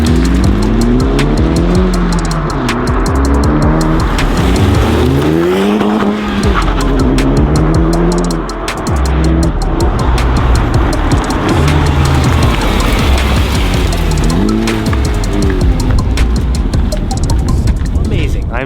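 A Honda Civic Type R FL5 runs hard on new tires, its engine rising and falling through repeated revving gear pulls, loud and close throughout, with brief tire noise and a voice speaking intermittently over it.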